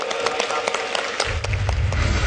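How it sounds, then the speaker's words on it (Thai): Audience at a Thai event applauds in welcome of a Siam Commercial Bank delegation, a steady stream of sharp claps that continues throughout, with a low rumble joining partway. "ขอเสียงปรบมือต้อนรับคณะของธนาคารไทยพาณิชย์ด้วยครับ"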